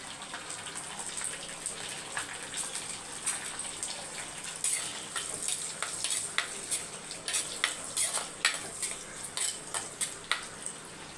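Garlic, small onions and curry leaves sauté in a pan with a soft, continuous sizzle. Frequent clinks and scrapes of a metal spoon stir them up close, with no talking.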